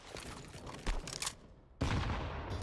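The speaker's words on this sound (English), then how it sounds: "that's a nade. That's a chunky one." A grenade blast in the Counter-Strike video game lands as a loud, heavy burst partway through, following earlier crackling gunfire bursts and trailing into a sustained rumbling tail.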